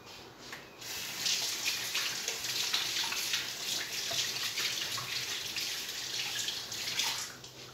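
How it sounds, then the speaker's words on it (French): Hands being washed under a running tap in a home kitchen, a steady close hiss of water with splashing shifts as the hands move through the stream, after a brief quiet start. "Je vais me laver les mains."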